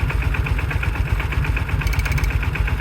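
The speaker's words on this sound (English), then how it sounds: "Oh, that's the fuel pump." Small engine of a 1995 Kawasaki Mule KAF620A idling steadily in cold weather, with a faint rhythmic clicking from its fuel pump ticking along underneath the low, even rumble.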